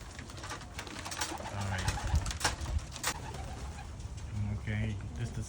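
Pigeons in a cage coo softly at close range amid rustling and faint background noise, with a brief spoken word.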